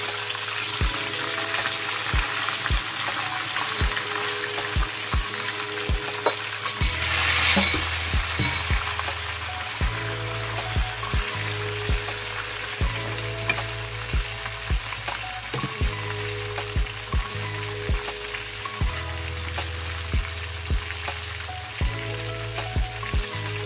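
Thick pieces of chicken fry in hot oil for crispy fried chicken, making a continuous loud sizzle and crackle with a low hum and repeated soft clicks underneath, with no talking.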